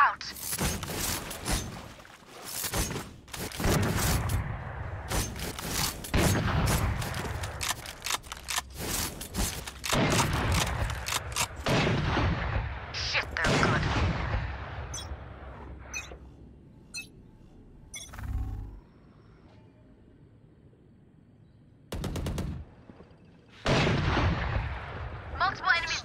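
A deployed turret in a shooter video game fires repeated sharp bursts of gunfire, loud and close, broken by short gaps and a longer lull near the end, with a voice speaking intermittently.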